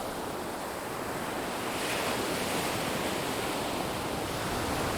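Steady roar of sea waves with gusting wind, a continuous broad wash of surf that swells slightly midway, no voices.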